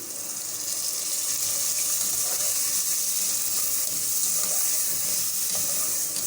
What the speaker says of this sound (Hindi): मसाले अच्छी तरह से फ्राई हो गए।